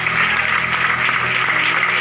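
Steady, dense applause from a church congregation cheering for Jesus during a sermon, a continuous wash of clapping that runs the full length without pause.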